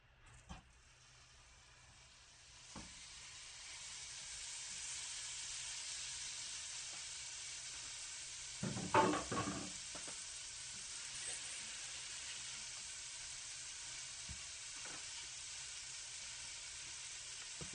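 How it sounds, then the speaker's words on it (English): Meat sizzles in a skillet over medium-high heat for Philly cheese steak sliders, a steady broad hiss that swells after it is added, with a short burst of stirring and scraping partway through, faint and unbroken by talk. "In that same skillet, you are going to add your meat now."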